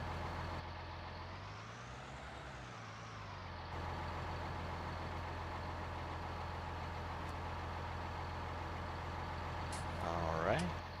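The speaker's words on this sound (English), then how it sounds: "Pull the tractor in and we're ready for winter, guys." A tractor engine idles steadily with a low continuous rumble while being parked for winter on a reindeer ranch, close and constant throughout, with a brief squeal near the end.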